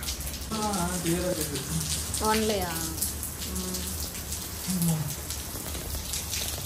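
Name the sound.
rain falling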